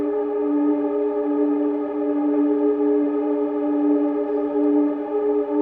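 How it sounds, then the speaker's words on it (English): A dark, steady ambient drone made in Ableton holds a low tone, layered with bright shimmering reverb harmonics that sustain evenly throughout. "the shimmer is really nice for this kind of dark ambience, or drone as well"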